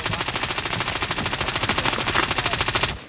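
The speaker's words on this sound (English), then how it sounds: "NPC shooting at me from behind." An NPC fires automatic gunfire in Fortnite, a fast, evenly spaced burst of shots that runs loud and unbroken for about three seconds before stopping.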